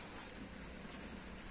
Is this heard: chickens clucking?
no